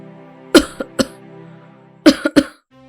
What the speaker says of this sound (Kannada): ಕೆಮ್ಮು ನಿಲ್ತಾನೆ ಇಲ್ಲ